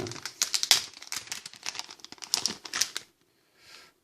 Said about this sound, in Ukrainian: Прийшли в такому антистатичному пакеті